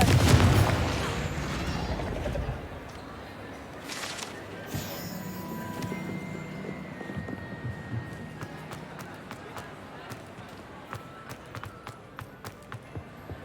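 A Confringo blasting spell goes off in Hogwarts Legacy with a sharp loud burst at the start, followed by scattered impacts, crackles and footsteps as game combat continues.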